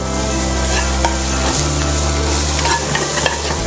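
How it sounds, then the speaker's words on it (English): Stuffing ingredients with pork sizzle loudly and steadily in a hot pan, with the scrape of stirring running through the frying. "creating a sizzle and sweating all our ingredients together to have that flavor running through"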